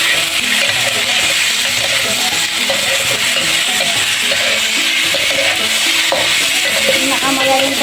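Food sautéing in a pan until lightly browned, with a loud, close, continuous sizzle and steady stirring, scraping and clinking of utensil against metal throughout.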